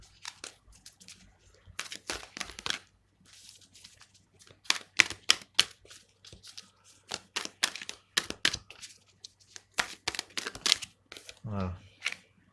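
Tarot cards being handled, drawn and laid down during a reading, heard as a scattered series of crisp papery snaps and rustles, fairly close and moderately loud, with gaps between bursts.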